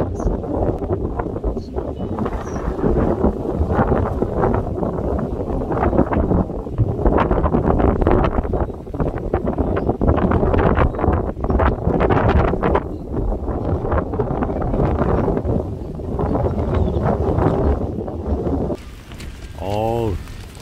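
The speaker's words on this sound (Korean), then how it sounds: "아, 새벽 바람. 데크가 일어나려 그래요." Strong, cold dawn wind on the summit of Goheonsan mountain, buffeting the microphone in a continuous heavy roar with gusty surges for about twenty seconds, while a voice talks intermittently underneath.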